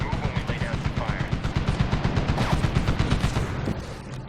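PKM machine gun fire in the Medal of Honor (2010) shooter, a rapid sustained burst of loud, closely spaced shots rattling steadily for several seconds before tapering off.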